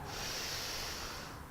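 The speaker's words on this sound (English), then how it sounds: "Take a deep breath into your nostril" A single long, deep breath drawn in through the nose during a yoga session, a close, airy hiss held steadily for over a second with no talking.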